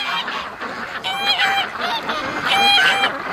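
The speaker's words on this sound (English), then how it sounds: "Hello, ducks!" Free-range ducks calling loudly nearby, a series of harsh honking quacks in irregular bursts that overlap one another.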